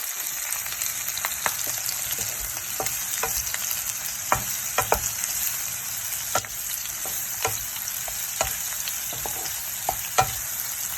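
Hilsa fish frying in a pan with onion and chilli, seasoned with turmeric and cooked without extra oil over raised heat: a steady, bright sizzle dotted with sharp pops and crackles throughout, close up with no voices.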